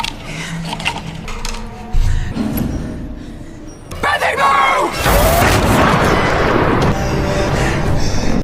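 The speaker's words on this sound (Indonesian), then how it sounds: "Beth langsung menggunakan bedil somplak milik Pak Bewok untuk membuka kunci" A shotgun blast in a horror film scene blows open a lock, a loud boom followed by sustained crashing and noisy clatter, with earlier quieter sound effects and music beneath.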